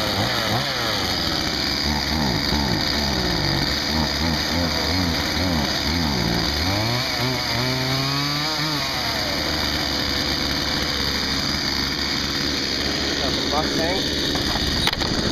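A chainsaw engine runs steadily, near and loud for the whole stretch, its pitch shifting in the first half as the throttle changes.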